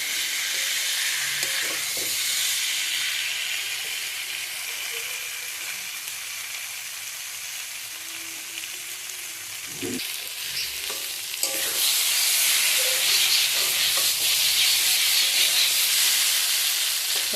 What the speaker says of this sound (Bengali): মশলার সাথে একটু কষিয়ে নেব